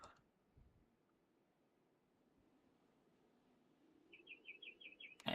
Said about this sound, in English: And we can hear the birds chirping out there.